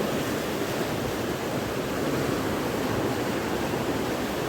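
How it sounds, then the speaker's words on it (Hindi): Canal water tumbling down a drop along the Ganga canal near Roorkee, a steady, loud, dense roar of rushing water with no break and no voices. "और पानी का फ्लो ऐसे मेंटेन रखने के लिए इसको ऊंची जगह से नीचे गुजारा जाता है ताकि पानी बराबर फ्लो में बहता रहे"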